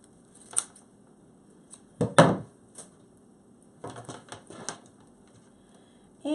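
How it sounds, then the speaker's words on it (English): Material is cut off a handmade witch hat door wreath with a few sharp snips and clicks, one short cluster in the middle and another near the end. The sounds are close but quiet, in a silent room with no talking. "I'm going to go ahead and cut this off."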